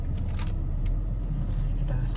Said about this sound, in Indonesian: Jadi kita mulai berjalan dengan sebuah Toyota Camry generasi kedua XV30 tahun 2003.